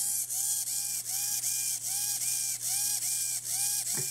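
A small motor wired to a Raspberry Pi 3 runs on its own, giving a steady mechanical whirr with a rhythmic, gear-like ratcheting that repeats about every 0.4 seconds, close and fairly loud.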